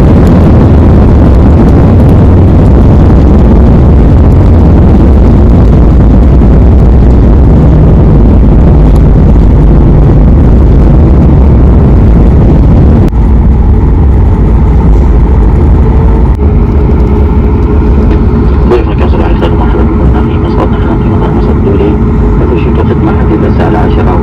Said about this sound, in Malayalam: അങ്ങനെ ഫ്ലൈറ്റ് ഇവിടെ ലാൻഡ് ചെയ്തു കേട്ടോ.